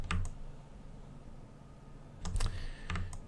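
Computer keyboard keys pressed for an Alt+W shortcut: a couple of quick clicks at the start and a short cluster of sharp taps later, close and fairly quiet against a low room hum.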